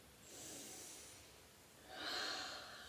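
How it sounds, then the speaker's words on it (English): Two deep breaths taken close to the microphone, a soft inhale followed by a stronger, airy exhale, quiet and breathy with no talking. "I remember to take a deep breath"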